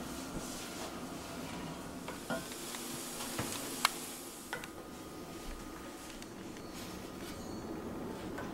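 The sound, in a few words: mushrooms added to caramelized pan, sizzling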